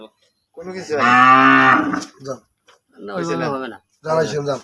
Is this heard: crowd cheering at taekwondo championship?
no